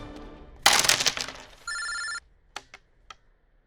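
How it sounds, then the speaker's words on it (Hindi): A telephone rings in a Hindi action movie: a sharp crash gives way to one clear, loud electronic ring burst, followed by a few faint clicks. "सिकंदर का फोन है"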